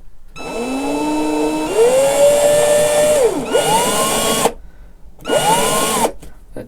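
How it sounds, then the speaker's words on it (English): A power drill with a wobbly bit drills into a guitar, whirring up and down in several bursts, pitch rising and falling, with brief silent pauses between runs. "That drill bit's awfully wobbly."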